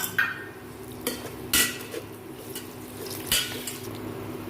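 A spoon stirs ginger-garlic paste and green chillies in a cooking pot while making egg biryani, giving a few quiet, scattered scrapes and metallic clinks over a faint background.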